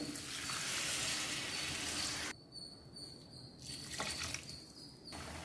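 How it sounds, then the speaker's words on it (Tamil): Tamarind water pours into a hot pot of radish sambar with a loud hissing sizzle that cuts off suddenly, then gentler bubbling and a brief renewed hiss. "நம்ம வந்து இப்போ இந்த புளி தண்ணியை இதில் ஆட் பண்ணிக்கலாம்"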